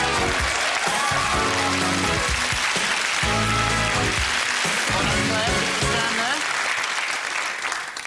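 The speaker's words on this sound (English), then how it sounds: "Give her a round of applause." Game show studio audience breaks into loud, sustained applause lasting about eight seconds, with upbeat music playing over it before it tapers off at the end.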